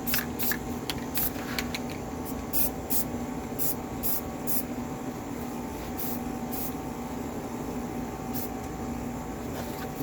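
Aerosol spray can giving a light dusting to rusty rear hinge parts from a Buick Rainier, in repeated short hissing bursts over a steady background hum, close and fairly loud, with no talking.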